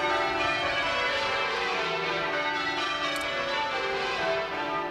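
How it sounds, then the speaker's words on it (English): Church bells ringing for the coronation ceremony of Charles and Camilla, a steady wash of overlapping peals heard continuously and fairly loud, with no talking. "The bells announced the arrival of the ceremony's final guests, Charles and Camilla."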